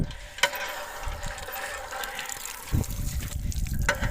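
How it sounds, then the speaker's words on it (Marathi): Water splashes and trickles steadily from a hand pump, with a couple of sharp clanks of the handle and a louder gush near the end. "हे आहे आमचा हापसा त्याला पाणी पिऊया मस्तपैकी हापशाचं"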